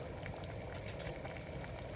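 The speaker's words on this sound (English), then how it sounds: "now that we've got the simmer going on the pan" Carrots simmer in water in a pan, giving a soft, continuous bubbling and hiss at low volume with no voices.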